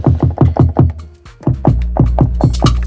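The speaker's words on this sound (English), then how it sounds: "I accompanied that sub boom bass with another punchy 808." Punchy 808 bass drum layered over a sub boom bass in an Afrobeats-style beat: a fast run of booming kicks, a short gap, then another swung run, loud and upfront.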